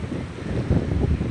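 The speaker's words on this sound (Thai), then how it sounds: "ได้ยินเสียงผมหรือเปล่าหรือว่าได้ยินเฉพาะเสียงลมหรือเปล่าไม่แน่ใจ" Strong wind on a rainy day at a seaside fishing-boat shelter buffets the microphone, giving a loud, steady low roar and rumble with gusty surges and no clear voice.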